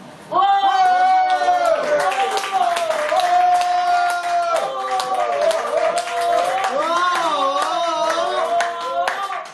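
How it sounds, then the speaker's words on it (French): Audience applause for a slam poet at a slam poetry night, a dense run of clapping beneath a strong, sustained voice that carries over it almost throughout, with the crowd close and lively. "Et Jean-Philippe, ça s'applaudit"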